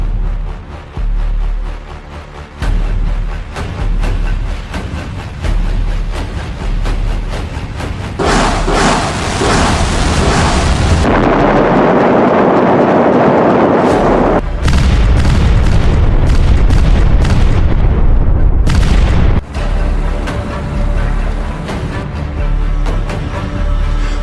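HIMARS rocket strike on a Russian convoy, heavy booming blasts and sustained roaring rumble that swell and cut abruptly, loud and close throughout with dense layered thumps.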